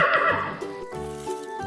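A horse farm animal toy lets out a short, bright electronic neigh, followed by a few softer toy tones, with no voices.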